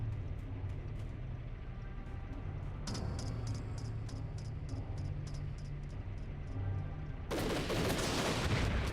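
Gunfire and explosive bazooka blasts in the video game Army Men: Sarge's War, a dense continuous barrage of shots with repeated sharp bursts and a loud noisy blast near the end, heard alone without talk.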